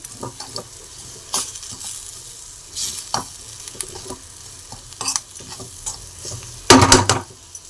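Capsicum rice bath frying in a pan with steady sizzling, stirred in scraping strokes that come in bursts, the loudest clatter near the end; no talking.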